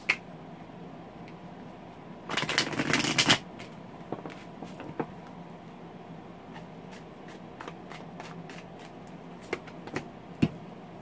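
Steampunk tarot cards shuffled by hand, a dense riffling burst of close papery clicks in the middle, followed by scattered soft card taps and handling sounds in a quiet room.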